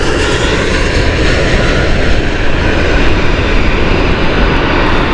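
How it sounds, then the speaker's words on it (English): A TAP Air Portugal Airbus A320 inbound from Porto at Gatwick, a loud, steady close jet roar with broad rushing noise holding evenly throughout. "we've got TAP inbound right now. That's what you can hear behind me from Porto with their Airbus A320"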